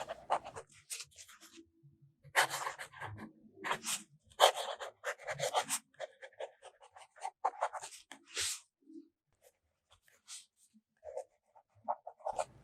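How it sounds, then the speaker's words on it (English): A broad-nib fountain pen scratches across reporter-pad paper in short bursts of dry, raspy strokes separated by pauses, close and fairly quiet, with no voices. "you're writing with a broad nib in a reporter pad"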